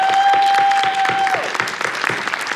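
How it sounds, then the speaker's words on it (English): An audience at a school reception for student literary competition winners claps steadily, a dense burst of applause that thins toward the end, with a faint steady tone underneath at first. "let's give our students a great round of applause"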